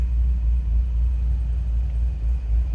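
A 2004 Chevrolet Corvette convertible's 600hp supercharged V8 idles with a deep, steady rumble, low and even, a throaty burble holding constant without revving or voices.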